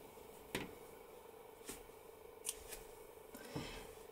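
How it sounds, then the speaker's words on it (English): Scissors snipping crochet yarn, a few sharp separate clicks spread out over several seconds, close but quiet against a low background hum. "Now we cut the yarn"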